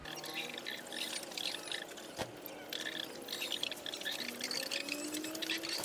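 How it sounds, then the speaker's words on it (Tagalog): Water gushes steadily into a tarpaulin-lined pond for growing azolla, a continuous, fairly loud pouring splash that runs for the whole stretch without pause. "Nilalagyan na natin ng tubig."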